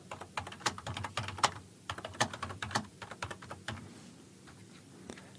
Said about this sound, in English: If I come over here and type